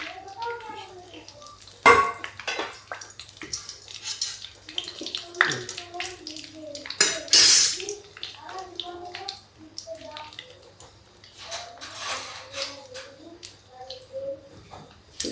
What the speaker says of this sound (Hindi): इसमें हम रख देते हैं ये छन्नी, और ये देखिए ये मूंगफली और बादाम डाल देते हैं।